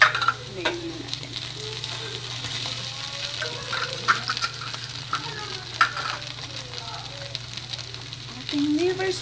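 A spoon stirs chopped hotdog sisig with liver spread in a hot pan, giving steady sizzling with scraping and clatter, heard close, with a faint voice in the background.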